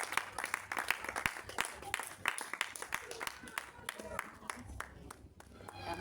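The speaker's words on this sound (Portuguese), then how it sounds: "Aplauda o nome do Senhor" Church congregation clapping during a worship service, a loose run of sharp, uneven claps close by with voices murmuring underneath throughout.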